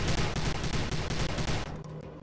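Rapid automatic gunfire in the sci-fi shooter Prey, a loud, evenly spaced stream of shots for about a second and a half that then cuts off, leaving a quieter tail.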